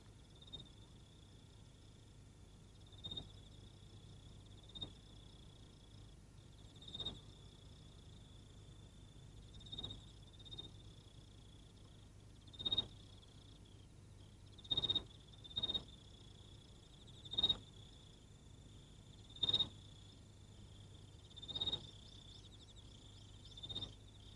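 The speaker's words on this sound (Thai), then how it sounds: "จิ้งหรีดร้องตอนกลางวันด้วยหรือไม่ก็ร้องอวดเพราะเห็นว่าเรากำลังดูอยู" A cricket's sharp chirps repeat at irregular intervals in the daytime, fairly clear above a quiet, steady background, with no voices.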